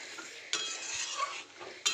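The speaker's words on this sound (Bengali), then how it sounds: "এটা নাড়াচাড়া দিয়ে আমি উঠিয়ে দেবো একবার ফুটিয়ে।" A utensil stirs jackfruit kofta curry in a pan, making a few short scraping strokes with light metallic clinks between them, close and fairly quiet, with no talking.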